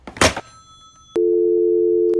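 A telephone dial tone comes on abruptly after a call is hung up, a loud, steady continuous tone following a short burst of noise and a click.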